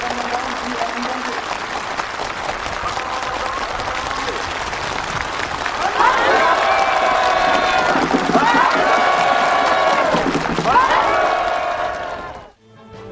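Enthusiastic applause from participants at a rural housing handover ceremony on a farm, loud sustained clapping from a large crowd filling the whole stretch, swelling midway and cutting off abruptly at the end.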